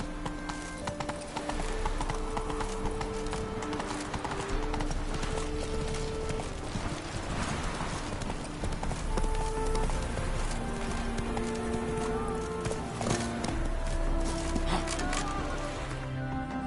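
A horse's hooves clip-clop in The Witcher 3: Wild Hunt, keeping a steady, close rhythm over game music with sustained tones for the whole stretch.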